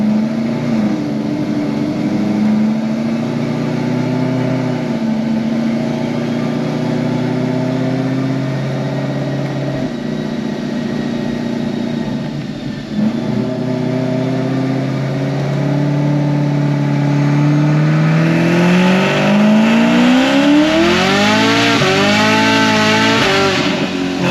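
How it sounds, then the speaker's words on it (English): A Chevrolet Camaro ZL1 with an RPM Stage 4 build on a dyno, on a stock tire, revving loud and sustained through the gears as pitch climbs, dips at a shift, then climbs steeply again near the end. "So dyno pulling 6 gears, so I'll do a 4, 5, 6."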